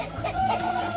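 Many chickens cluck and murmur together on a chicken farm in a steady, busy din, with one nearer bird calling briefly above the flock.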